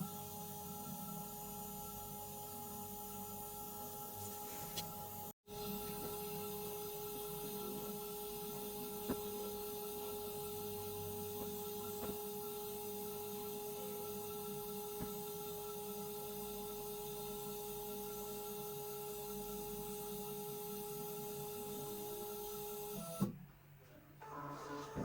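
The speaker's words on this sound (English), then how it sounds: "Now, after our testing, the printer will auto print the" A PTT-P5 tester's built-in printer auto-printing test data, a steady mechanical whir with a constant tone running for about twenty seconds, faint clicks along the way, then stopping with a short clunk.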